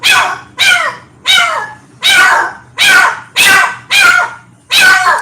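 A dog barks eight times in a steady rhythm, each bark loud, close and sharp with a slight whining edge, with nothing else heard between them.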